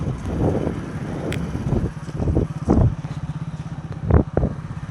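A motorcycle rides along near a college ground in Dharwad, its engine rising and falling in uneven bursts amid rough wind buffeting on the microphone, close and moderately loud.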